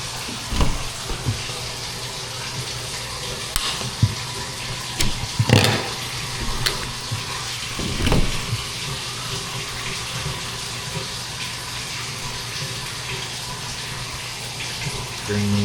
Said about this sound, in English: Check for warm water.